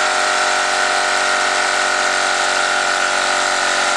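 Wilesco D 222 toy steam engine driving a Jensen generator runs at a steady, fast pace, producing a constant whirring, hissing drone with a rapid mechanical pulse, close and unbroken throughout.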